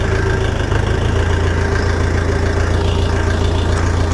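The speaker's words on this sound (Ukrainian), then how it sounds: "Перша передача понижена." Dong Feng 404DHL mini tractor engine running steadily in low first gear, a close, continuous idle-like diesel rumble with a throbbing low drone and no speech.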